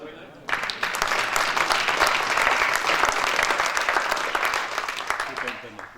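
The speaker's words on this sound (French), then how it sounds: "Vous pouvez l'applaudir" Sustained applause from a comedy festival audience at the unveiling of a festival poster, starting abruptly, holding full and steady, then easing toward the end, with some talk faintly underneath.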